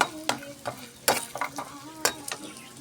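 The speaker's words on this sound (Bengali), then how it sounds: "ওর মধ্যে 3টা বড়ি আমি হাত দিয়ে ভেঙে দেব, ভেঙে ভেজে নেব" Broken lentil dumplings (bori) frying in oil in a kadai after prawns, a low sizzle broken by irregular clinking scrapes and stirs of a spatula, close and fairly quiet, no voices.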